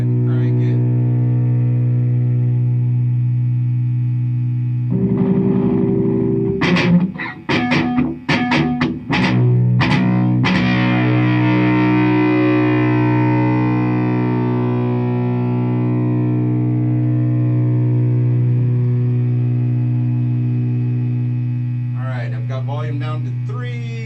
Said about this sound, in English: Starting to hear the distortion kick in. Let's just go ahead and crank it.